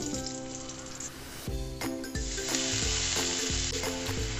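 Boiled pumpkin greens frying with browned garlic in hot oil, a loud continuous sizzle with stirring scrapes and bursts that rise as the greens hit the pan, no voices.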